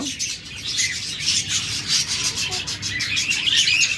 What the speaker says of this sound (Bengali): এগুলো কিন্তু বিগ সাইজের পাখি চমৎকার একটা মিউটেশন